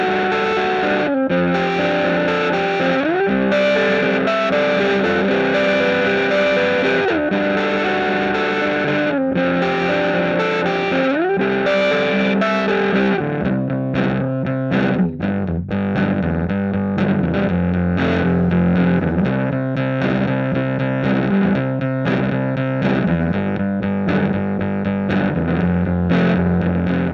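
Electric guitar played through a handwired Vox-style amp with a driven, chorused tone, sustained strummed chords giving way to busier picked passages, loud and steady throughout with no talking.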